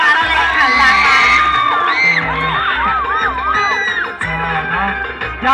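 Crowd at a Lao provincial beauty pageant in Phongsaly whoops, cheers and shouts loudly and continuously, with high excited voices and a steady thumping music beat underneath.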